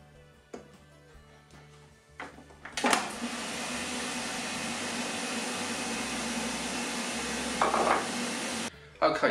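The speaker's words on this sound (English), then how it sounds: "Then add 3 whole eggs that I've whisked." Whisked eggs poured into melted butter in a Tefal pan: a few clinks, then a steady, loud sizzle and hiss that holds for several seconds before a final clatter.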